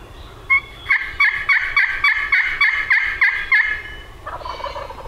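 A wild turkey gobbles during a spring hunt in the woods, a single rapid rattling gobble of about ten pulses, loud and fairly close, followed by fainter bird calls.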